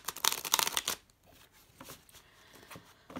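Fairy Tarot cards shuffled close up, a dense burst of riffling card flutters followed by quieter intermittent slides and taps.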